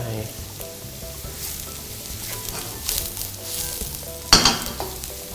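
Sliced straw mushrooms go into a hot pan with softened onion for fettuccine Alfredo with ham. A steady sizzle runs throughout over soft background music, then bursts into a sharp, louder hiss as they land.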